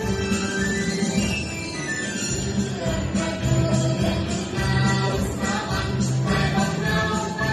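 A school song plays loudly and continuously through car speakers, with a full, dense mix of sustained tones and instruments and no talking over it.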